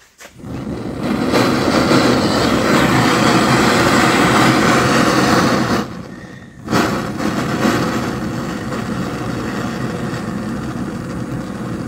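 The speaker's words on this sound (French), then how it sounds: "On va chauffer pour souder." A gas torch heating copper water pipe for soldering, a loud steady roaring hiss that cuts out briefly, then resumes steadily.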